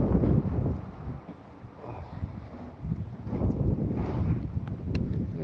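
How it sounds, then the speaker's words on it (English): Gusty wind buffeting the microphone outdoors in Gillingham, England, rising and falling in loud low rumbles throughout. "Gillingham is very windy at the moment."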